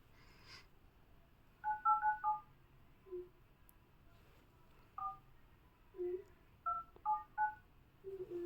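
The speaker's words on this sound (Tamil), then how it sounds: "சரி, மிஸ்ஸுக்கு ஃபோன் பண்ணுறேன்." Telephone keypad dialing tones in a home, a few short bursts of paired beeps in quick runs separated by pauses, fairly clear over a quiet room with low background noise.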